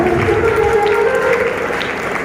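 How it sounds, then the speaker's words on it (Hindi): Audience applause for a sister called to stand at a Safe Shop business gathering, steady and dense across the whole stretch, with tonal music or a voice line running beneath the clapping. "जोरदार जोरदार तालियों की, जोरदार"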